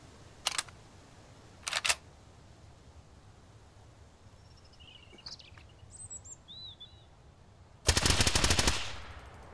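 Gunfire aimed at a bear in the survival video game Mist Survival: two separate single shots ring out, then a quiet stretch with faint bird calls, then a loud rapid burst of automatic fire.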